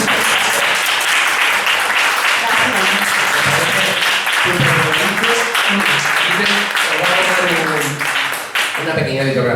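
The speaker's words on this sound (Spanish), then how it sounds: "yo creo que se merece un aplauso" Sustained audience applause at a novel presentation in an Ateneo hall, dense steady clapping filling the room for the full stretch, with voices rising underneath toward the end.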